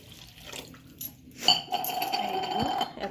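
Water poured into fish curry in a pan while cooking: a short splashing pour with sizzling and bubbling, clinks of utensils around it, moderately close.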